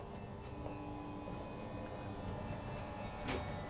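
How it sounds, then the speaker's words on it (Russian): Blower motor of a church pipe organ pumping air to the pipes, heard inside the motor compartment as a steady, dense low drone with broadband whooshing, continuous and close, with faint clicks on top. "Это мотор, который нагнетает воздух, который попадает потом в трубы и работает, создавая звук."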